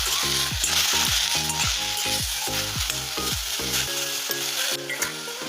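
Lehheti leafy greens sizzle and are stirred in a hot kadai, a constant loud frying hiss with a rhythmic musical pattern playing underneath.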